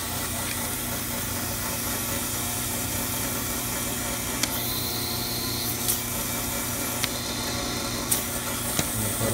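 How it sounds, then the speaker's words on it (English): A vacuum pump on an Astro envelope feeder runs steadily, giving a constant broadband mechanical whir and hum with a few faint sharp clicks from the machine, with no talking. "I'll show you that the vacuum pump is working."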